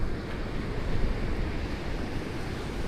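Big ocean waves break along an Outer Banks beach in a steady, loud wash of surf, with some wind rumble on the microphone and no voices.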